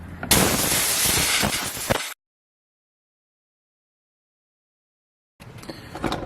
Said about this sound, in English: So I've got my little compressed air right here. We're just gonna start spraying.